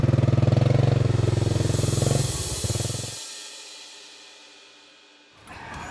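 A motorcycle engine runs loud and steady up close, then fades and drops away as the bike passes and the sound trails off, before a brief noise returns at the end.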